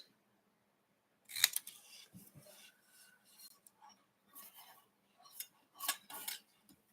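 Scissors snip through scrap white paper, cutting it into a rectangle; a handful of quiet, irregular cuts separated by pauses, close and clear in an otherwise silent room.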